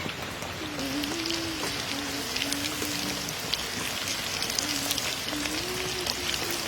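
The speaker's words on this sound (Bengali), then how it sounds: "একেবারে কম আঁচে ভাজতে হবে এগুলো, যতটা কম আঁচে ভাজবেন তত মুচমুচে হবে।" Chakin popcorn pieces sizzle in hot oil over low heat, a dense, even crackle and hiss that runs steadily throughout, joined by a faint wavering tonal whine.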